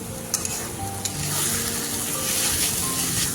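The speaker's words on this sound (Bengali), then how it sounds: "লবণ হলুদ দিয়ে আরও 2 মিনিটের মতো কষিয়ে নিচ্ছি" Shrimp and taro leaves frying and being stirred in a pan with turmeric and salt give off a steady close sizzle, with a few sharp utensil clicks near the start.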